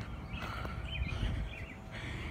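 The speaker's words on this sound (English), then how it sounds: "Hear all the birds chirping." Faint birds chirp outdoors on a hot day in brief scattered calls over a low rumble of background noise.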